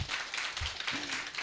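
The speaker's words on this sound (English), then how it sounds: "Applause again." Applause from an audience at a photo exhibition launch, a short burst of dense clapping with a few sharper individual claps standing out, moderately loud and steady throughout.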